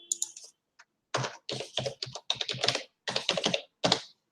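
Someone types a username and password on a computer keyboard, with quick bursts of crisp, close key clicks separated by short pauses and no voices.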